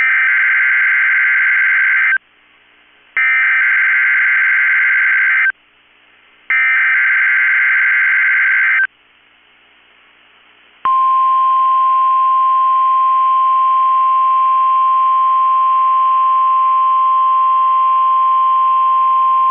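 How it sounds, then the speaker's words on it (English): NOAA Weather Radio warning alarm from the National Weather Service in Chanhassen, Minnesota: three loud buzzy two-tone bursts separated by short gaps, then a long steady pure alarm tone holding alone for about nine seconds. "The National Weather Service in Chanhassen, Minnesota has just activated the warning alarm on 13 weather radio stations"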